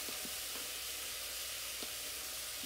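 Food sizzles steadily in a hot oiled pan, a broad continuous hiss, with a few soft scrapes of a utensil stirring it.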